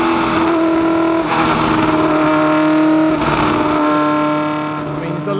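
A loud Cosworth engine in a 1969 McLaren M9A race car screams up through the gears, pitch climbing then dropping at each shift, heard from inside the car.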